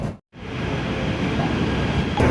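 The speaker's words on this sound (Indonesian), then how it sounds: "Saya sudah naik kereta" Inside a train heading from ITM station in Malaysia toward the Sepang circuit: a steady, loud rumble of rolling carriage noise follows a brief silent gap near the start, with no speech.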